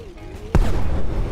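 A single sharp, booming gunshot in the video game Brick Rigs cracks out midway, its low rumble lingering after a quieter tonal hum.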